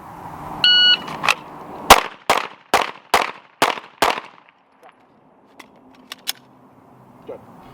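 Shooting drill with a shot timer: a brief timer beep, then six sharp, loud gunshots in fast, even succession, followed by faint handling clicks and quiet background.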